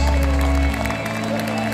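Audience applause at a live Christmas concert in 2023 in Koper, Slovenia, for the keyboardist, with clapping and crowd noise continuing over sustained band instrumentation, loud and steady throughout.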